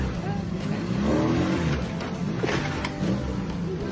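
A car drives along with a steady, loud road and engine rumble, and people talk over it throughout.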